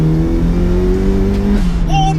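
A turbocharged Mazda MX5 fitted with an SR20 engine, about 300 bhp, accelerating hard on an open road, a loud steady engine drone climbing in pitch and then shifting, heard close up throughout.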